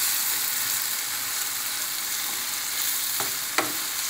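Ridge gourd cooks in a pan, giving a soft continuous sizzle with a couple of brief clinks or stirs near the end, close and steady, with no voices.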